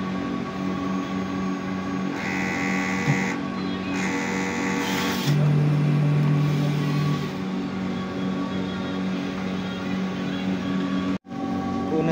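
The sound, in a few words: printer running head clean cycle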